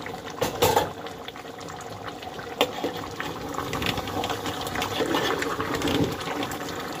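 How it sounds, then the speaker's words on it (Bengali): Beef curry boils hard on full flame in a covered pot, a quiet churning bubble broken by a few sharp pops and spits of splattering oil. "বলক ফোটা দেখে বুঝতে পারছেন তেল ছিটছে, ঝোল ছিটছে"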